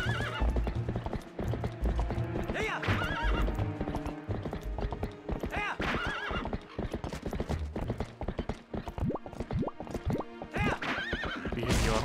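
Horse hooves clip-clop in a steady galloping rhythm in Zelda: Twilight Princess, with loud whinnies and neighs rising over the hoofbeats and game music throughout.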